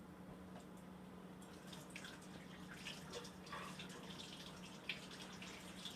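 A kitchen faucet running during hand washing, a soft continuous water flow with faint splashes and drips against a low hum, no voices.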